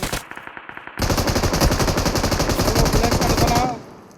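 Automatic gunfire in the mobile battle-royale game BGMI: a short opening burst, then a long, rapid, steady stream of close machine-gun shots that cuts off sharply near the end.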